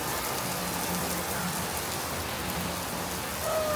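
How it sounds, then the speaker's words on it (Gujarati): Heavy monsoon rain pours down steadily in a dense, even hiss, with no voices. "આ વરસાદ આવ, પણ આવા ટાઈમે ન આવ"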